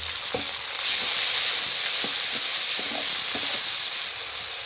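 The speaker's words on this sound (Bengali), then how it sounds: "পেঁয়াজ কুচি দিয়ে দেবো একটা টমেটো কুচি করে নিয়েছি দিয়ে দেবো" Chopped onion and chopped tomato hit hot oil in a frying pan, giving a steady close sizzle with a few soft stirring knocks and scrapes, no voices.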